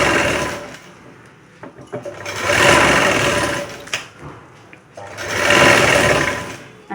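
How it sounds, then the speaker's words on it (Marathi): A sewing machine stitches a blouse sleeve in two loud, close bursts of rapid whirring, separated by quieter pauses with small clicks and fabric handling, and no one speaks. "तर मी आता खूप कमी शिवणार आहे"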